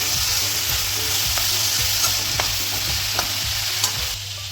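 Veg Hakka noodles with black pepper being stirred and tossed in a wok, giving a loud, continuous sizzle with scraping spatula strokes and light clinks throughout, no voices.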